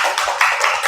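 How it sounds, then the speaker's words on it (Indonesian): A classroom of students applauds group 3 after a nasi goreng recipe presentation, a brief burst of dense, steady clapping from many hands close by. "Tepuk tangan dulu untuk kelompok 3."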